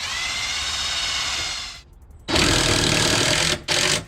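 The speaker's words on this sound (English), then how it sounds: "I need to drill one more hole." A power drill bores a hole while a Humvee fender is being installed, running in loud, close, buzzing bursts with short pauses between them and no talking.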